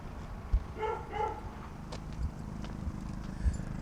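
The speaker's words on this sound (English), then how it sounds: "And I think I hear a big old dog barking." A dog barks a few times in the distance outdoors on a hill, faint repeated woofs over wind and low rumbling with occasional thumps nearby.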